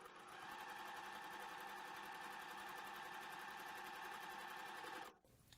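A sewing machine stitches pieces of quilt fabric in one steady, fast, even run for about five seconds, close and clear, then stops abruptly.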